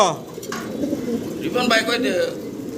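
A male Sirazi pigeon coos repeatedly, its low throaty calls continuous over a few seconds, close by in a busy pigeon farm with faint background chatter.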